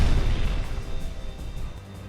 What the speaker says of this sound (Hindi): सामने रखी 7 मीटर चौड़ी कंक्रीट दीवार पर ये धमाका